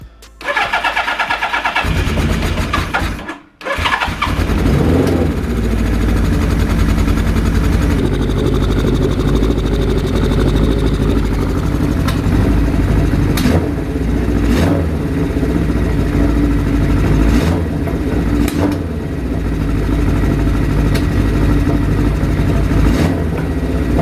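A carbureted engine cranks and starts after a mixture screw adjustment, cuts out briefly, then fires again and runs loud and close, with intermittent pops breaking through the steady rumble.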